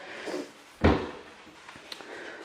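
A kitchen drawer in a newly built house slides open or shut with one firm thud near the start, followed by faint small knocks and handling sounds, close and alone without talk.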